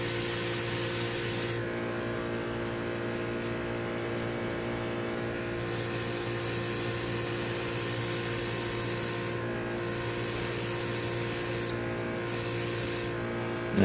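An airbrush sprays paint onto a model railway piece on a spinning turntable, a steady close hiss over a constant compressor hum, pausing and restarting in short bursts toward the end.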